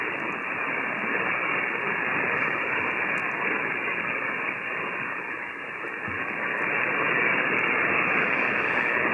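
Static hiss on the 20 meter band received by a ham radio on an emergency frequency, a steady, fairly faint band-limited rushing noise with slight swells, no voices.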